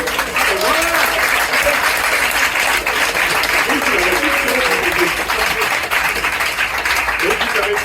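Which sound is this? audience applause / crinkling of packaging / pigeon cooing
audience applause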